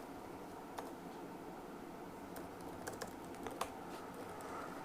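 Light, quick taps on a computer keyboard come in short scattered bursts at a quiet level, over a soft steady room hiss and with no speech.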